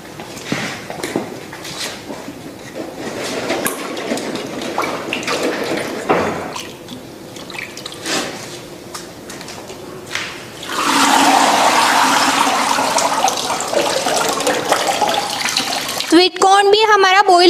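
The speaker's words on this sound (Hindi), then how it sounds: "हमने ये सारे मटर खाली कर दिए। अब इसे ठंडे पानी में धो लेंगे।" Fresh green peas rinsed in cold water, with a steady loud rush of running water taking over midway and continuing, preceded by quieter handling sounds and water noises, and a short gurgling burst near the end.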